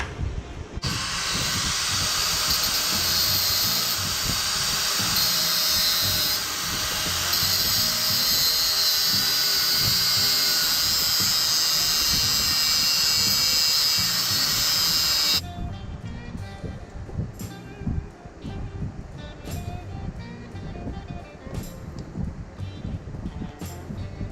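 A power tool cuts through a motorcycle chain link during a chain conversion on a Harley Sportster chopper. A loud, steady high-pitched grinding whine runs for about fifteen seconds, then stops and leaves quieter clicks and handling noises.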